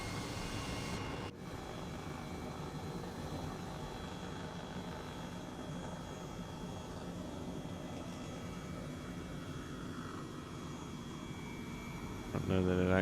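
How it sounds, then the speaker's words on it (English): A helicopter in Microsoft Flight Simulator flies steadily with a constant droning engine and rotor hum, loud and unbroken, with a voice speaking over it. "we gotta land the helicopter on the cargo ship"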